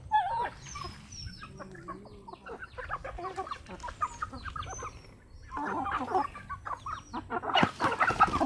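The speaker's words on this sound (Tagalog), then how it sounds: "Maura ni tanan manok" Several chickens clucking and squawking close by, busy overlapping calls with occasional louder cackles, no talking.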